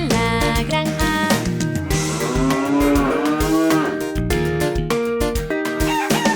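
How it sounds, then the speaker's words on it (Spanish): A cow on a farm moos with a drawn-out, wavering call, mixed into a busy children's song with bright instruments playing steadily underneath. "La vaca en la granja hace mu, mu, mu"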